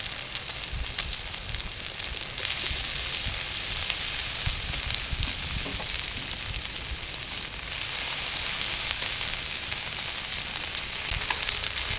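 Washed rice with oil is stirred and fried in a pan, giving a continuous close, loud sizzle with faint scraping of the stirring throughout.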